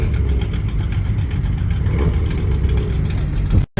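A souped-up Toyota Supra at a Hot Wheels Legends Tour car show idles loud and close, a steady deep rumble with slight revving swells throughout, cutting off abruptly at the end.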